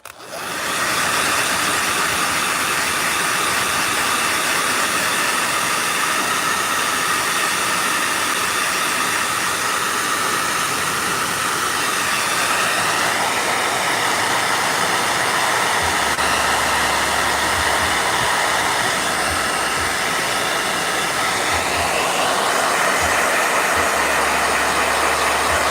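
A blow dryer runs loud and close for the whole stretch, a constant whooshing roar of fan and air whose pitch shifts slightly partway through, with no voices.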